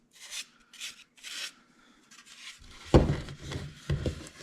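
Hand sanding of a 3D-printed part with a damaged horn, done as prep before priming: a few soft raspy rubbing strokes, then closer, louder scuffing and scraping with sharp contacts, with no voices.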